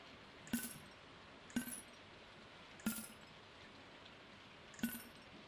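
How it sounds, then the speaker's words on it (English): Rain in the farming video game Stardew Valley, heard as faint steady hiss with four separated bright clinking taps spaced irregularly over it. "maybe because it's raining?"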